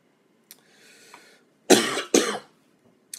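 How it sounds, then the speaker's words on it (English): Two loud, close coughs from a man, back to back, following a soft throat sound, in an otherwise quiet room. "Still getting over the cough."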